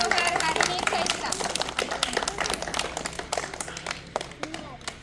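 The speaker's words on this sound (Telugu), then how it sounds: "క్లాప్స్ కొట్టండిరా" People clap their hands in scattered applause at a Republic Day celebration at the VRK Puram panchayat office, with voices talking over the claps.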